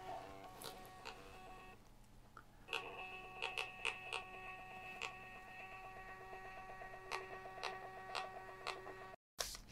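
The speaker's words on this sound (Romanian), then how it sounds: "imprimanta este pornit" A digital tachograph's built-in printer printing a driver receipt, a faint continuous whirring hum with tonal buzzing and rapid ticking pulses, ending in a brief cutoff.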